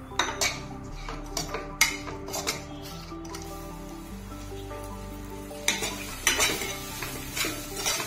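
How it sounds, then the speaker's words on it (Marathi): Mixed vegetables including French beans, cauliflower, capsicum and peas being sautéed in a pan for veg rice, close repeated scraping and clinking stirs over a soft sizzle with a low steady hum underneath, no voices. "या भाज्या पण थोड्याशा परतून घेऊया"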